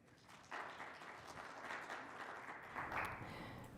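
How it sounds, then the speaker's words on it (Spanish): A conference audience applauds a speaker at a green computing talk, the clapping faint and distant at first, then swelling into a steady, moderate round with a second rise near the end. "Un aplauso para ella."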